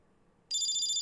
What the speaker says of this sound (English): But then someone's phone rang.